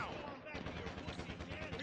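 Gunfire and explosive blasts in the video game GTA Online, a dense rapid burst of loud crackling shots and booms continuing without pause.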